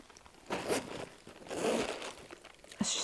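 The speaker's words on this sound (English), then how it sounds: "This has got to be one of the best zips I have ever had on a bag." The zip of a round Mimco satellite hip bag is pulled open and closed in a few quick, close raspy runs, with light handling rustle between them.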